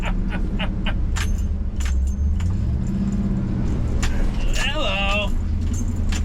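An old Chevy truck on Kumho Road Venture MT71 mud tires crawling through deep swamp water in four-low first gear, a steady low engine drone with rattling and jingling from the cab, while someone talks over it.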